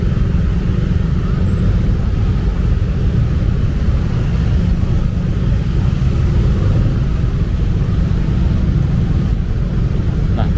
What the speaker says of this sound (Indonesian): Nah, tampak macet ya arah keluar dari Pascal Hyper Square nih